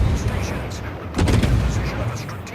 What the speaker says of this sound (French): ça c'est la force de l'Akatsuki, il a d'excellents canons